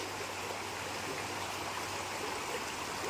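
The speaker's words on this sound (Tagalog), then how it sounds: "Ang lakas ng agos." A strong current of flood water rushes past in a steady, dense roar, continuous and fairly close, with no voices over it.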